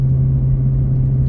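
Low, steady engine drone from a 1-ton pickup hauling a scrap trailer up a steep grade, loud and near, with a constant deep hum and rumble and no talking.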